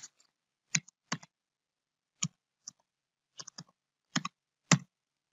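Sparse, close clicks of keys on a computer keyboard as a command is entered, roughly a dozen separate taps spread unevenly over a few seconds, ending with a firmer key press, no voices.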